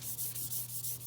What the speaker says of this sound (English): if you just do a little bit of sanding like this